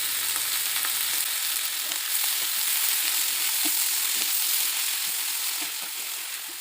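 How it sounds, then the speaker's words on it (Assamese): Spinach sizzling in a pan with onion and garlic, a steady bright frying hiss with occasional stirring clicks and scrapes, close and continuous with no talking. "পালেং শাকখিনি অলপ সময় ভাজি ল'ম।"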